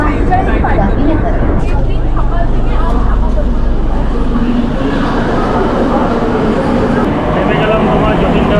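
A Kolkata Metro train running through an underground tunnel, with a loud, continuous low rumble and rattle heard from inside the carriage, while passengers talk in the background.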